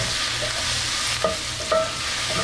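Vegan Italian sausages with peppers and onions sizzle in a pan while basil is stirred in, with a steady fry under a few distinct scrapes and clinks of the spatula against the pan, and no talking.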